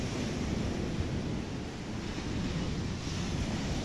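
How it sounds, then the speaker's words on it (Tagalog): Rough surf of the West Philippine Sea roars steadily with heavy wind buffeting, a dense, continuous wash of crashing water. "Lakas ng alon."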